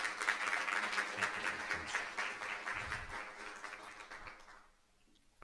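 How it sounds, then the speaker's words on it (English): An audience at a school district board meeting gives a dense round of clapping that holds steady, then thins and fades out near the end. "Give a round of applause for Erica."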